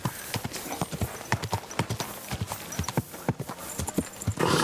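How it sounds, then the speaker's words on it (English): Horse hooves clip-clop steadily in a video game, a close, evenly paced series of hard hoof strikes running throughout, with the sound thickening briefly at the very end. "Easy, good horse."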